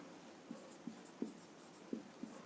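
Short scratchy strokes of writing on a board during a Class 12 physics lesson, about six separate marks spaced unevenly, close and fairly quiet.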